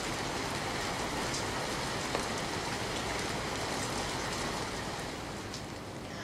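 Heavy monsoon rain in Gujarat pours down in a dense, unbroken hiss, loud and steady throughout with no voices.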